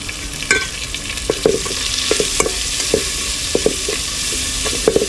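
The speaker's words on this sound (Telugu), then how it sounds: "ఇప్పుడు టమాటాలు అయితే వేసేస్తున్నాను" Chopped tomatoes stirred into sizzling ginger-garlic paste in a pan, a steady frying hiss broken by sharp scraping and knocking of a spoon against the pan at irregular intervals, close and clear, no talk.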